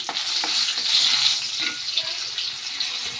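Cumin, mustard seeds and chilies hit hot oil for a coconut steamed dumpling curry, producing a loud, dense, crackling sizzle that holds steady with small pops throughout.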